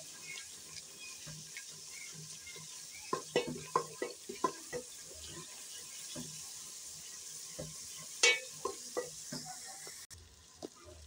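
Eggs frying in a pan for a potato and egg curry, a steady close sizzle with a run of sharp scraping stirs and clinks partway through, no voices.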